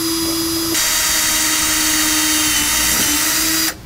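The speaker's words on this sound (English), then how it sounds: "Now we'll drill out a pilot hole where we marked." A power drill whines loudly and steadily for a few seconds while drilling a pilot hole for a ladder rack rail, its motor pitch shifting slightly, then stops abruptly.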